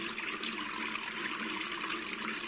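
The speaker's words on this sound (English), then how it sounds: "The water is coming through." Water rushing through a fire hose in the Fireman Sam Fire & Rescue game, a steady, dense hiss and gush that holds at an even level throughout without talk over it.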